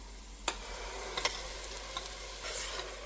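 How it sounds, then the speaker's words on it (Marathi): Spice paste frying in oil in a pan for a Goan fresh mackerel curry, with a faint steady sizzle broken by a few sharp scrapes of stirring, close and fairly quiet. "मसालो थोडो गोत फ्राय कोत्ता आतां"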